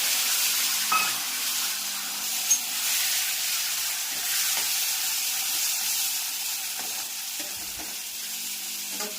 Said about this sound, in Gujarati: મજાનો વઘાર થઈ ગયો છે